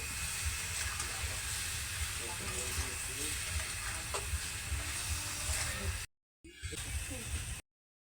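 Sugar is stirred into sour mango pickle for a tangy, spicy-sweet achar. A steady close hiss and sizzle runs with soft scraping stir sounds, then cuts out briefly near the end.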